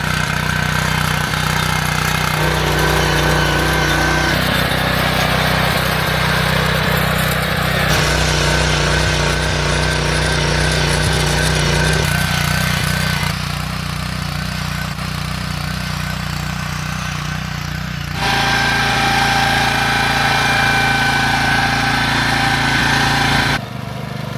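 A power weeder's small engine runs loudly and continuously at close range, shifting pitch and load several times as it works the field, with no talk over it.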